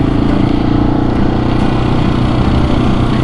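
KTM 701 single-cylinder motorcycle engine held at steady, loud revs in second gear while the front wheel is up in a wheelie, a continuous close drone without break.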